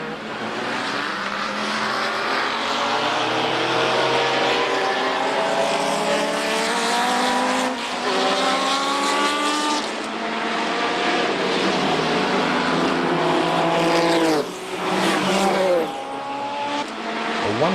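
Group C sports prototype race cars howl around Brands Hatch as several loud engines pass in turn, each pitch climbing and falling through gear changes, with no talk.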